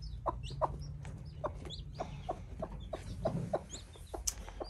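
A Cochin hen sitting on hatching eggs gives soft, close, repeated clucks in an uneven rhythm, with a few higher peeps and low rustling, and no talk.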